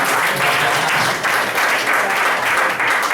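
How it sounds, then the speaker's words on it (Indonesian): Audience at an indoor company gathering applauding Pak Agus, steady dense clapping held close and loud for the whole stretch. "kita berikan applause untuk Pak Agus kita ya"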